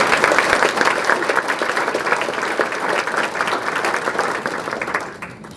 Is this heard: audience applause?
yes